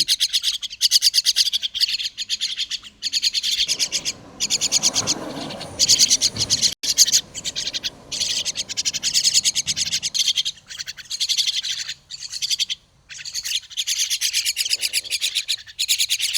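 Common mynas call hungrily close by in a busy stream of loud, rapid chirps and harsh chattering notes, with brief pauses between bursts.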